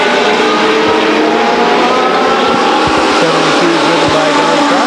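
Legends race cars roar around Stockton 99 Speedway, a dense, continuous engine howl from a pack of cars filling the track loudly and without pause.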